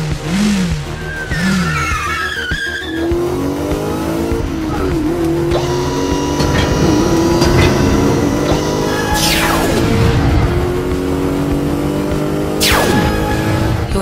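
Motorcycle engine in a Revolution 60 game cutscene set in a hallway, revving and whining up and down through the clip over a steady loud roar, with tire-squeal-like sweeps and layered music or effects.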